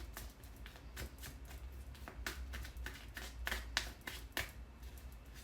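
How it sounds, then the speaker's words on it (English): Tarot cards being shuffled in repeated riffling bursts, crisp and close, with short pauses between each pass and no talking. "2 more shuffles."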